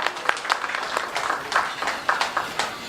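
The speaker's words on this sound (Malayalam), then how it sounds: "ഓഡിയൻസ് ഒരു ഉഗ്ര കൈയടി കേൾക്കുവാണെങ്കിൽ നമ്മുടെ ഈ ഒരു ഒഫീഷ്യൽ സെറമണി ഇവിടെ സ്റ്റാർട്ട് ചെയ്യാം" Audience applause at a film re-release press meet, a dense, lively burst of many hands clapping close by for a few seconds.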